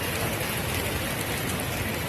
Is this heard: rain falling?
yes